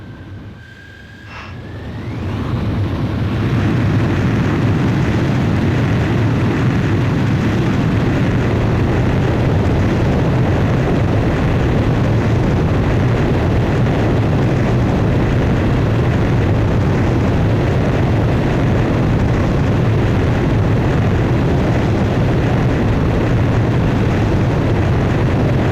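A fighter jet in Ace Combat 8 spools up and roars down the runway for takeoff, a steady, loud engine rumble that swells after a brief quiet start and holds for the rest of the stretch.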